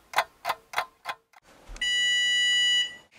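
A kitchen oven timer goes off while challah bakes: four quick regular rings or ticks, then a steady high electronic tone that holds for about a second before cutting off, loud and near, with no voices.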